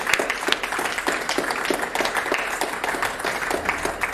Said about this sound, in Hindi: जोरदार तालियां बजाकर स्वागत करिए जमुना प्रसाद अबोध